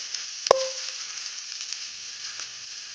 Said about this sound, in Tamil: வெங்காயம் பூண்டு நல்லா வதங்கட்டும்.